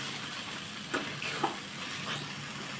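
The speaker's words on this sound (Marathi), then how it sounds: "हे आता आपण छान परतून घेऊया मसाला आणि ह्याच्यात मसाले घालूया आपण" Onion masala and spices sautéing in a pan for a mixed vegetable dish, a soft, fairly faint sizzle with a couple of brief stirring sounds.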